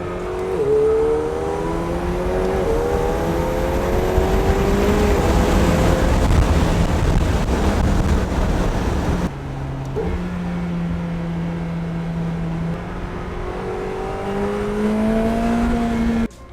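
A minivan runs laps on a race track, its engine rising and falling through repeated gear pulls. The loud, close drone drops sharply once midway, then builds again.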